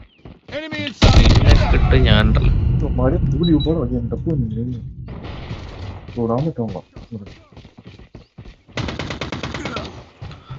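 Dense bursts of gunfire in Call of Duty Mobile with rapid automatic rattles and sharp shots, loud and close, mixed with excited talking over the action.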